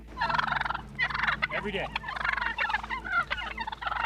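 Wild turkeys gobble in rapid, rattling bursts, loud and close, several birds calling almost continuously with brief gaps, and a voice briefly speaks over them.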